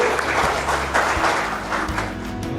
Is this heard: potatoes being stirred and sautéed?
no